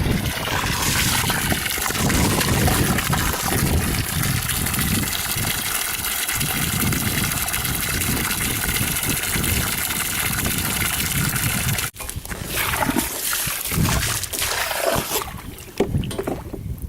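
Water gushing and splashing steadily from a hose or pump as a horse comes to drink, a loud continuous rush close by that briefly cuts out and then resumes.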